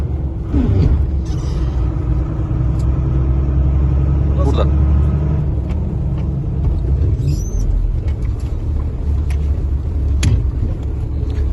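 A BMC truck engine runs steadily with a loud, continuous low rumble heard from inside the cab, and voices talk over it throughout.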